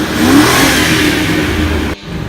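A car accelerating in a drag race revs hard in one loud, sustained engine roar that climbs steadily and then cuts off abruptly near the end.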